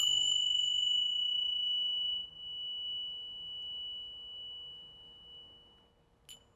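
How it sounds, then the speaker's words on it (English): A bright metallic chime rings out and slowly fades with a long, pure sustain in a quiet room, followed by a short faint tap near the end. "we'll start using our Tingshaw bells"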